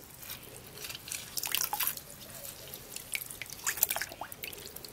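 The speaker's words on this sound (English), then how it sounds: "I'm going to be squeezing in my lemon into my water that I want to use to wash off this treatment." Lemon juice drips and trickles into a bowl of water as a lemon is squeezed, a scatter of faint, close liquid drops that bunch up in the middle and near the end.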